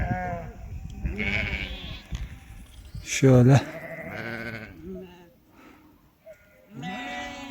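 Lambs and sheep resting in the shade bleat near a shepherd, with one loud, clear bleat standing out in the middle among softer calls, while someone talks over the flock.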